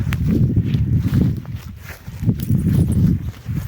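A mare's hooves clop along at a steady walking pace, close by, with a low rumbling background and a few faint rustles.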